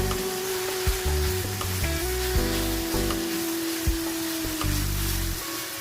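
Minced meat for lasagna fries in a pan with a steady, close sizzle, broken by several heavier scraping and stirring strokes spaced through the stretch.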